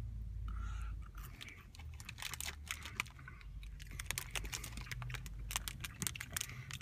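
A chocolate-dipped insect being chewed gives close, crisp crunching and rapid clicky bites, fairly quiet, with no talking.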